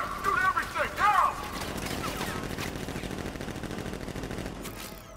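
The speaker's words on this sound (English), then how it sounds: "Open fire! Shoot everything! Now!" Gunfire in Batman: Arkham Knight rattles as a steady stream of rapid shots beneath game voices, following a brief loud exclamation at the start.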